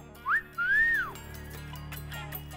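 A person gives a wolf whistle at a woman near a water stall: a short rising chirp, then a longer arching tone, loud and close, over a quiet background hum with no speech.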